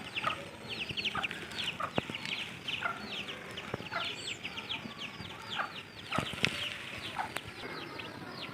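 Two small ducklings give rapid, high thin peeps and chirps close by, overlapping in a busy, continuous chatter with a few sharper calls standing out.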